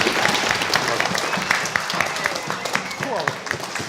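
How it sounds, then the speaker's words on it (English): Audience applause at a schools orchestra concert, a dense burst of clapping from a large crowd that gradually thins toward the end, with some voices mixed in. "they just need one more huge round of applause for Michael and Lloyd."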